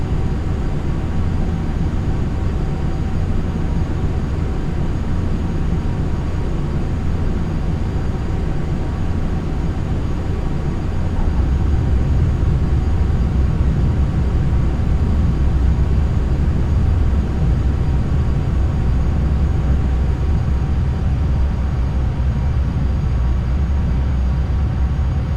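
An airplane landing in Flight Simulator X gives a steady, loud, unbroken engine roar with a deep rumble that continues for the whole stretch, with no voices.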